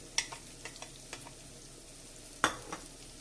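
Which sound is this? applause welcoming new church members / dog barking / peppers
peppers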